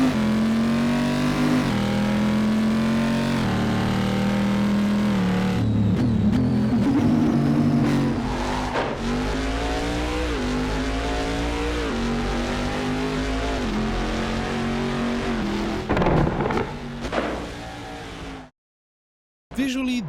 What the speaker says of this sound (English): the car really sounds like a muscle car